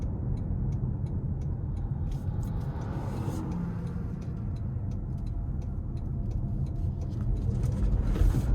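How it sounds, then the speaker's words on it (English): Steady, moderate engine and road noise from a 2026 Toyota C-HR XSE accelerating out of a corner in eco mode, with a faint regular ticking over the cabin drone and a slight rise in level near the end. "I'm going to put into the eco mode and let's see how it accelerates out of this corner."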